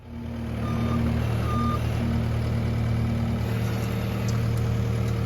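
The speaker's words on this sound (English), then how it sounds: "Justin's in the skid steer, and we're filling the trench back in" A skid steer idles and works steadily while filling a French drain trench back in, its engine a constant loud drone with a repeating high reversing beep sounding in intermittent runs throughout.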